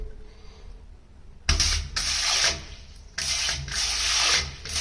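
Water bursts from a Disfact hygienic bidet shower head after a quiet start, a loud hissing spray that cuts off and restarts in several bursts.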